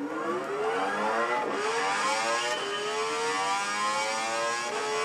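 Tomahawk X engine in Gran Turismo 6 revving continuously, rising pitch sweeps repeating as it climbs through gears, steady and loud with no voices.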